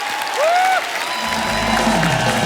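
A studio audience on a comedy show applauds loudly to welcome the qawwali singers. The clapping is steady and sustained, with a rising musical tone sounding over it.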